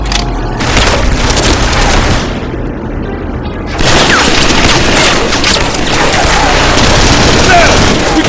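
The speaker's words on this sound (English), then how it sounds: "Take out those machine guns!" Heavy gunfire and booming blasts from a Killzone 3 battle, dense and continuous with a brief lull midway before the barrage resumes loud and close.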